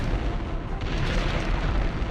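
A grenade detonates in the shooter Turok 2, a loud, close, rumbling boom that fills the whole stretch with dense low roar and no speech.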